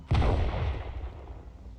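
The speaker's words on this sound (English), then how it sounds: "That is a satisfying explosion." An explosion from weapon fire in Star Citizen, a single loud booming blast with a long rumbling decay.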